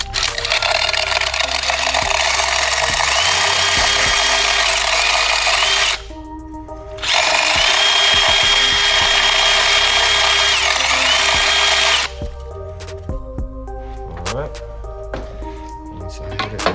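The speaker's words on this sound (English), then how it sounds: "we're gonna take our drill with our zip ties" A power drill spins zip ties against a BMW engine: a loud, close, high-pitched whine runs for about six seconds, stops briefly, runs again, then gives way to short intermittent bursts.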